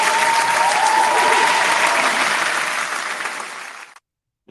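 A studio crowd gives a full, dense round of applause for about four seconds, steady at first, then thinning and fading out before a brief silence.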